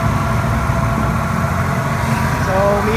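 Engine of a Nissan Sentra B14 running steadily with the compressor engaged while the AC system is recharged with refrigerant, a loud constant low rumble with no breaks.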